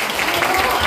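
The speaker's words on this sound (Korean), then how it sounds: "박수 부탁드립니다." An indoor audience at a public talk event claps in steady, dense applause, with voices mixed into the noise.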